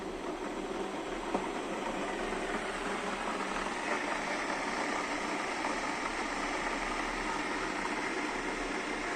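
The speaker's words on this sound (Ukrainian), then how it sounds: "Можете почути, як запрацював чайник." An electric kettle hums and hisses steadily as it heats, a constant, faint rushing noise with no talking.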